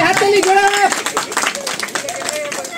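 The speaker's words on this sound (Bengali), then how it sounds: "একটু হাততালি, সজোর হাততালি" A ceremony audience breaks into brisk, dense clapping close by as a woman is honoured with a stole. A voice speaks over the applause, and people cheer and chatter in the background.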